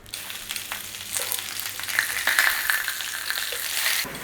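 Peppers charring over an open flame, a soft steady hiss and crackle that slowly builds in intensity, with faint pops scattered through.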